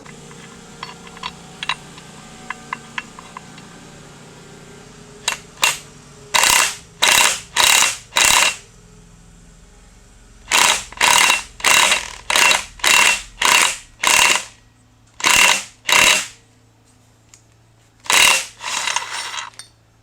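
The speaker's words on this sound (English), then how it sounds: "we can use this to just gently persuade this gear all the way onto the crank" An improvised tool presses a timing gear onto an LS engine crankshaft, giving a run of about a dozen loud, close ratcheting bursts in uneven rhythm, with faint clicks and handling noise between them.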